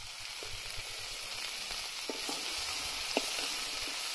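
Okra (bhindi) cooks over low heat in a covered pan, giving a steady, even sizzle and hiss with a few soft pops and stirring clicks and no talking.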